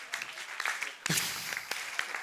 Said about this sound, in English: a clap at least